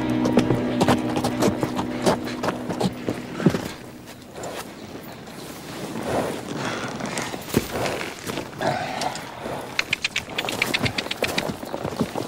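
Horse hooves clatter in an irregular clip-clop over a steady outdoor background, the beats growing sharper and more distinct toward the end.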